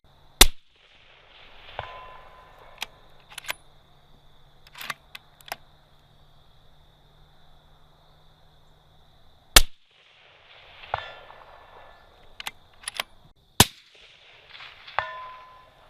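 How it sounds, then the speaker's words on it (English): A Bergara B-14 Ridge rifle in 6.5 Creedmoor shooting soft-point rounds outdoors: sharp, isolated cracks spaced several seconds apart, each with a brief ringing tail, and quiet stretches between them. "I really like the sound of that gun."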